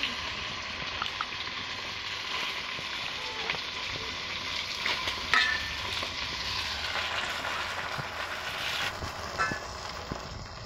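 Onions fry and bubble in oil in a kadai with a continuous sizzle. Faint clinks and small pops come through, and a voice can be heard softly in the background.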